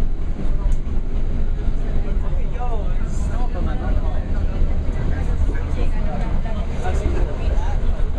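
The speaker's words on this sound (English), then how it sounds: "yeah, we're on a train" Steady rumble of a train riding through the Peruvian mountains toward Machu Picchu, a continuous low rolling drone with faint squeals, and people talking throughout.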